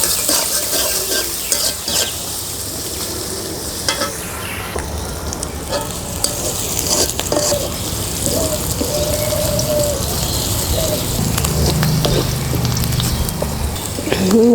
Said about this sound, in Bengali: তেল দিয়ে দিলাম, রসুন দিয়ে দিলাম, পেঁয়াজ কুচি